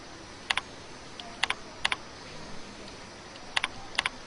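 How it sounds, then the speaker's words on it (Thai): Keystrokes on a computer keyboard come in sparse pairs and small clusters, close and fairly faint over a steady background hiss, with no talking. "ก็ให้พิมพ์ไปนะคะ"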